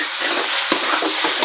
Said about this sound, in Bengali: তো এবার চাল কুমড়োটাকে ভালো করে নেড়ে নেব।